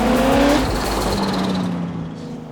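A loud American V8 muscle car, a Hellcat, revving hard on a UK road, a strong throaty roar that swells and then settles into a steady drone with rising and falling engine pitch.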